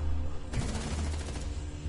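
Gunfire in Rainbow Six, a dense burst of rapid shots starting about halfway through and rattling on over a low steady game hum, with no talk.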